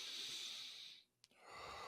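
One deep breath, a long airy exhale that fades out, then a brief sharp catch of air and a soft resumption, quiet and close to the mic.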